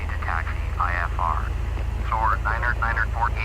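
An aircraft engine in Microsoft Flight Simulator X, a steady low drone with a throbbing hum throughout, mostly under radio-style voice chatter.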